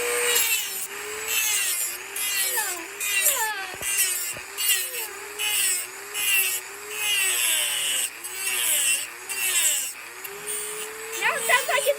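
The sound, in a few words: Dremel rotary tool grinding wood on pinewood derby truck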